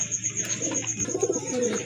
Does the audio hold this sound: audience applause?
no